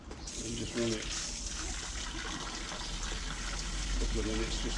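A water tap runs cold water from a canal-side filler into the canal, a steady close gushing flow with a person talking over it.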